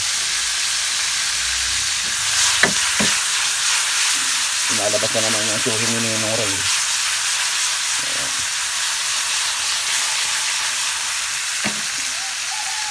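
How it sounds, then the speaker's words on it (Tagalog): Duck intestines sizzle and hiss loudly in hot oil throughout, with a few clanks of a utensil and a brief hum; a voice speaks at the start. "lalagyan na natin yung intestine para maprito na siya ng konti"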